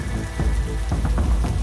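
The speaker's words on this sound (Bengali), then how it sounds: "একদিন বিকেল থেকেই বৃষ্টি ঝরছে।" Steady cartoon rain sound effect for a Bengali children's story, a continuous hiss of falling rain with soft low rumbling beneath, loud and close, with no voices.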